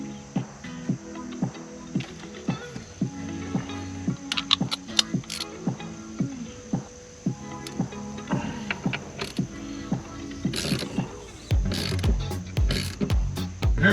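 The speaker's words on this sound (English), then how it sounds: "We're back with the wheel puller, so we're gonna go ahead and pull the wheel off." Ratcheting clicks from a steering wheel puller being worked to remove the steering wheel of a 1995 Ford Mustang, with irregular mechanical clicks and short metallic rattles close by, growing busier and louder toward the end.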